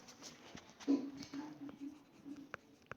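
Marker or chalk writing on a board in a maths lesson, faint scratchy strokes and small taps scattered over a quiet room, with a low hum underneath.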